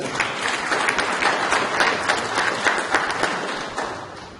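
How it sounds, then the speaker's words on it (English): Dense, steady applause from a conference audience at a family planning event in Nigeria, many hands clapping together at close range for several seconds before tapering slightly at the end. "Let's clap for him for coming."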